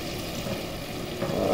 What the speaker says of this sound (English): I just want to saute this up